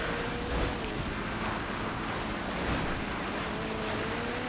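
Steady rushing of rain and splashing water in a car video game, a continuous broadband wash with low rumbling swells, fairly loud and even throughout with no voices.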